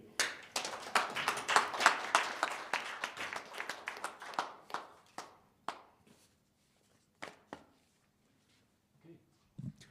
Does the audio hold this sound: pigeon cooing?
no